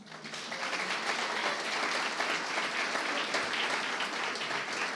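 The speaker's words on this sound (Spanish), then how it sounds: "Quiero pedirles un aplauso para el Foro de Periodismo Argentino," Audience applause fills the hall at the opening night of an international journalism congress held at a university, a dense, steady clapping from a large crowd that holds at full strength for the whole stretch.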